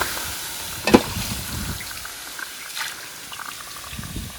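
An overheated car engine parked in the shade hisses and bubbles like boiling coolant, a close steady seething with a few sharper pops, alone without talk.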